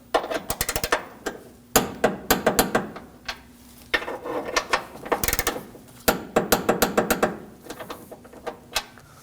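A ratchet-style torque wrench snugs bolts on the front bumper impact absorber and frame rail of a 2016-2022 Honda Pilot, giving loud, close bursts of rapid clicking separated by short pauses, with no talking.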